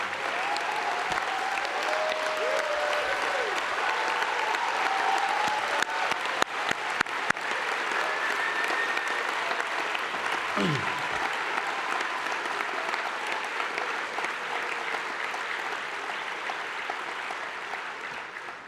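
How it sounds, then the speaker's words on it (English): Sustained applause from an audience at the F1 in Schools World Finals awards gala in Singapore, steady and dense from start to finish with no pause. "Stand up, please, all of you, and we'll give you a big round of applause."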